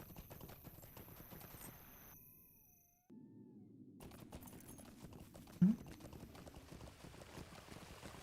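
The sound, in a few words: horse hooves walking in video game Lord of the Rings Online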